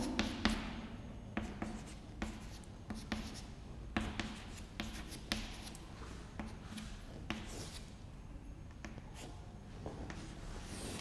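Chalk or marker taps and scrapes against a board during a maths class, a quiet stream of short strokes and knocks close by, with no talking.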